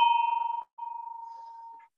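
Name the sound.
bell rung to open a meeting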